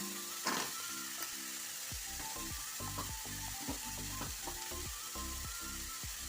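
Spice paste sizzling in a pan with banana blossom and green gram, stirred for a thoren: a constant soft frying hiss with repeated scraping stir strokes and faint clinks, fairly quiet throughout.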